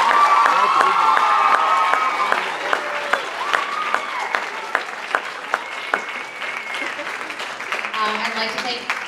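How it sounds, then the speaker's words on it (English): An audience at a high school vocal pops concert applauds the parents, with dense clapping and some cheering that thins into scattered claps, and a voice faintly heard over it. "So please give your parents a huge round of applause."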